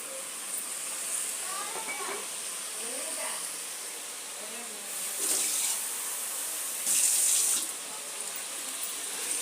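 Water poured into a hot cooking pan of oil, onion, ginger-garlic paste and tomato for a mixed vegetable curry, giving steady hissing and splashing with two louder bursts, with faint voices in the background.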